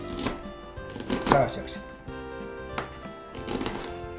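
A knife chops food on a board into small pieces for pan frying, a few irregular, fairly faint thuds with a quiet voice speaking in between.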